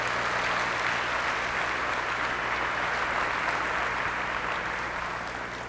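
A large keynote audience claps for game developers, a dense, steady wall of applause that holds evenly and begins to fade slightly at the end.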